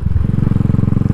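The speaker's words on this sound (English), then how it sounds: "It's free flowing. It's always gonna pop a little bit." A Royal Enfield Classic 500 single-cylinder motorcycle with a free-flowing aftermarket AEW Gold Star exhaust and a custom fuel map thumps out a rapid, steady train of loud, close exhaust pulses.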